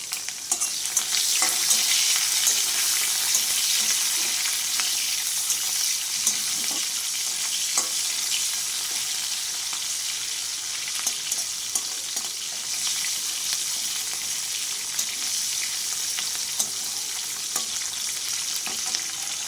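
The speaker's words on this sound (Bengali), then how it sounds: "আমি ক্যাপসিকামটা দিয়ে তারপরে দেখো একটু গোটা গরম মশলা আমি দিয়ে দিচ্ছি" Capsicum frying with whole garam masala in a pan gives a steady, dense sizzle throughout, close and continuous with faint stirring scrapes; no speech.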